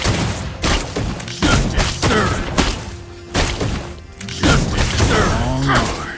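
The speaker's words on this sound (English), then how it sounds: "Justice served. Your team destroyed the turret." Turret destruction in the Mobile Legends battle game: a dense run of heavy thuds, crunches and shattering impacts with bright effect tones mixed in, loud and continuous, with a game announcer voice in places.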